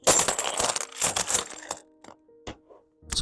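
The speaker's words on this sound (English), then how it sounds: "So all the coins are here, and now we can tip them off." British silver half crown coins tipped out in a pile, a dense jangling cascade of metallic clinks and rattles up close, then a few scattered settling rings and a final clatter.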